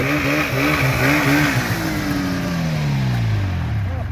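A carbureted Yamaha Phazer snowmobile engine running close by: a loud, rough idle rising and falling through a few blips of revving, with a steady mechanical drone throughout.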